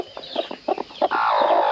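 Broody hens on a warm summer evening cluck in short, rapid bursts close by, ending in a longer drawn-out grumbling call.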